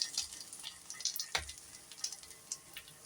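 A vegetable bread omelette fries in a pan, giving a faint, soft sizzle dotted with small pops and ticks, close by and otherwise quiet.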